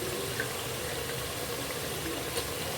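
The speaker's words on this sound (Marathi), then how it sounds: "गरम पाणी टाकून" Steady running water as hot water pours into a pot of rice for mutton biryani, a continuous hissing splash close by with no voices.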